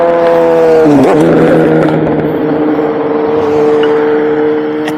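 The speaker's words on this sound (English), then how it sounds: "That was a little rev for me, I think." A small motor revs up sharply near the start, its pitch dipping and rising before settling into a steady loud drone for the rest of the moment, with no voices.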